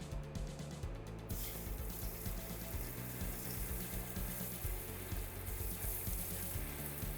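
Water runs steadily over wire EDM guides on a Makino UX series machine, rinsing acid off them in a continuous close splashing stream with no talking.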